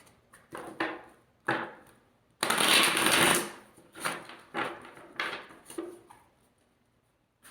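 Tarot cards are shuffled in several quick, close riffling bursts with short pauses between them, one longer riffle in the middle, each burst a crisp papery flutter with no talking.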